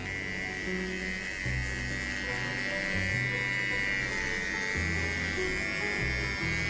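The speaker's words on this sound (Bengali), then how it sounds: "এই ট্রিমার দিয়ে কিন্তু খুব সহজ শেভ করা" An electric trimmer runs continuously during shaving, a close, steady buzzing drone with shifting tone as the blades move against hair.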